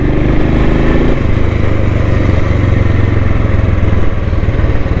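A Royal Enfield Thunderbird motorcycle engine runs steadily close by, with a loud, continuous low thumping idle throughout and no talking.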